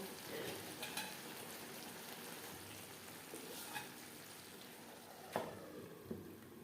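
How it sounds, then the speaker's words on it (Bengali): Fish pieces cook with tomato on a medium flame for a fish curry, giving a quiet, steady sizzle broken by a few sharp stirring clicks and taps. "এইভাবে 4-5 মিনিট মিডিয়াম ফ্লেমে রান্না করে নেব"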